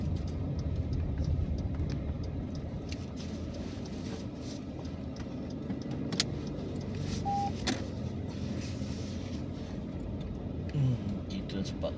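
Road traffic builds up on a road trip, heard from inside a vehicle as a steady low engine and road rumble with faint passing cars.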